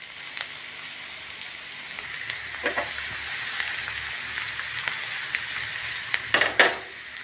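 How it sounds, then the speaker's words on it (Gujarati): Onions sizzling in a pan for a Gujarati chana masala curry, a soft steady frying hiss with a few light stirring and utensil clinks near the end, no voices. "ડુંગળી સરસ શેકાઈ રહી છે,"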